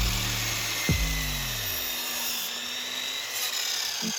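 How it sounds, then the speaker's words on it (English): A miter saw winds down after cutting a fire log to size for an offset smoker, its motor whine sliding down in pitch and fading away, leaving quiet room noise. "I use my trusty old miter saw to do so"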